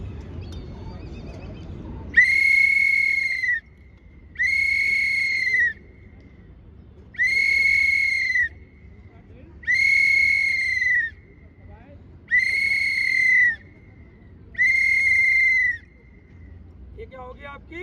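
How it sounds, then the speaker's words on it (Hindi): Six long, loud, steady warning whistle blasts during EOD training, evenly spaced about a second apart, each held for over a second with short quiet gaps between them. "लंबी लंबी सीटी पुनः, बार बार लंबी लंबी सीटी होंगी।"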